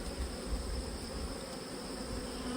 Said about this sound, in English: a few bees buzzing about my head.